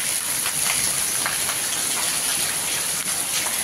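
Steady rain falls continuously, a dense hiss with scattered drops pattering on a nearby surface, no voices.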